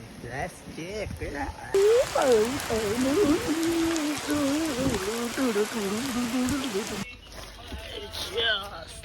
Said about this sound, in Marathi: गार पावसामध्ये